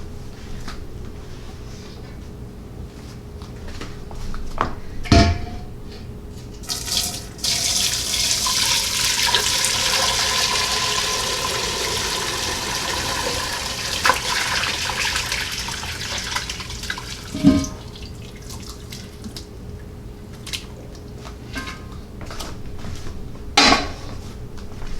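Homemade roasted corn stock poured through a small kitchen strainer, a steady broad wash of pouring liquid with splashing, bracketed by a few sharp clinks of metal and dishware close by, no voices.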